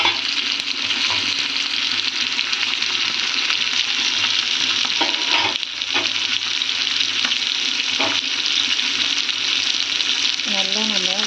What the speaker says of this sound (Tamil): இப்போ நம்மளோட மீன் நல்லா ஃப்ரை ஆகிட்டுருக்கு